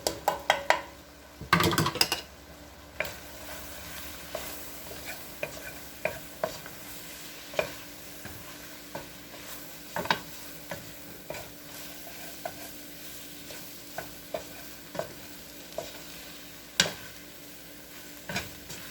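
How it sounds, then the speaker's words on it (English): Flour being stirred into hot fat in a pot to make a roux for a chicken pot pie casserole, repeated scraping and tapping of a utensil against the pan over a soft sizzle, with a louder clatter early on. "Now we are going to add that 1/3 cup of flour. We're making a roux."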